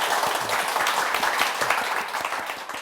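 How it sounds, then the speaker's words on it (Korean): An audience at a talk show on stress and serotonin breaks into applause, a steady patter of many hands clapping at moderate volume with a few sharper individual claps standing out. "박수로 듣겠습니다"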